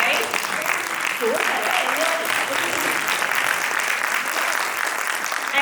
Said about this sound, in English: I want you guys to clap